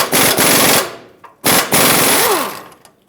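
A power tool rattles in loud, rapid hammering bursts while unthreading a sway bar link mounting nut on a 2011-2018 Ram 2500 front suspension, two long bursts separated by a short pause.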